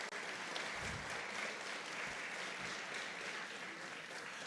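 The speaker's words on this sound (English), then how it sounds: "Please, a round of applause for the judges" An audience at an innovation and entrepreneurship awards night gives the judges a round of applause, steady and dense clapping filling the room for several seconds with no talk over it.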